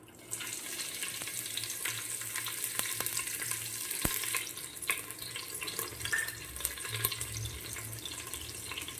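Finely chopped round-sliced green chillies hit hot oil in a pan for Gujarati garlic khichdi, giving a steady moderate sizzle and crackle with a few sharp pops, close by and without any talking.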